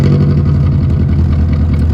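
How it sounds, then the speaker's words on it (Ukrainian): Loud, steady engine drone from a Honda Accord 6 coupe whose exhaust has a muffler can fallen off, a harsh continuous rumble with no talk over it. "одна з банок вихлопу остаточно відвалилася, і звук став абсолютно нестерпним"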